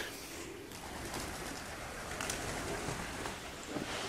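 Tumbler pigeons released over Kozani in February, cooing softly and repeatedly at a moderate distance against a light outdoor hiss, with a few faint wingbeats and no talking.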